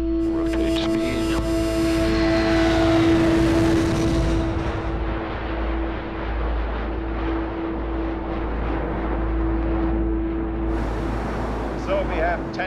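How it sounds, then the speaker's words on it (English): A research aircraft equipped with science instruments for measuring changes in Antarctica roars down the runway on takeoff, a loud sustained engine drone with a steady whine and rising rumble heard from inside the cabin. "Clear for takeoff, here we go. Rotate speed."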